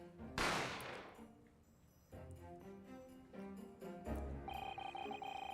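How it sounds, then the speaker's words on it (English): A single loud gunshot bursts out early in the video game The Great Ace Attorney, followed by sustained tonal game sounds and chimes. "I didn't have time to think about where the sound of the gunshot had came from."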